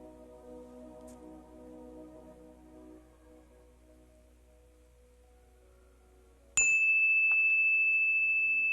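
A single meditation bell is struck sharply after a quiet stretch, then rings on with a steady, sustained metallic tone that hangs without fading during the clip, with no talking.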